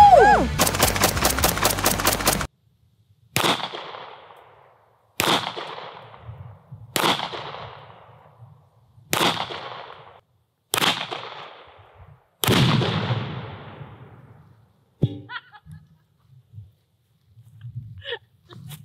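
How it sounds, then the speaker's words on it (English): At an outdoor shooting range, a rapid burst of shots comes first, then about six single gunshots spaced a couple of seconds apart. Each is a sharp, loud crack with a trailing echo, followed by faint handling noises. "let's go shoot some guns"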